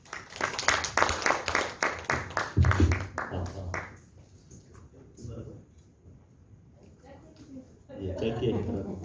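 An audience at a Cheongju city forum on street tree policy claps to welcome a speaker, several seconds of rhythmic applause fading out, followed by quiet room noise and then a voice speaking.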